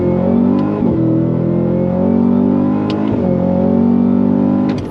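A 2024 Cadillac CT5-V Blackwing V8 sedan pulls hard through fast gear changes, its loud close engine climbing in pitch with brief dips at each quick upshift, with no speech.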